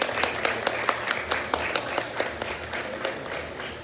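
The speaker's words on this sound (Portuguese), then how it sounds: "uma salva de palmas para Jesus de Nazaré, por gentileza." Audience applause at a literary academy gathering, with distinct individual claps standing out over a steady bed of clapping, lasting a few seconds.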